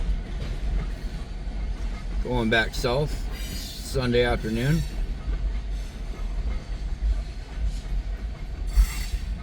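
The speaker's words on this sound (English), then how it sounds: "it's weird they got this such a short train" A short CN freight train rumbles steadily past at a low, constant level while someone talks over it in two brief stretches.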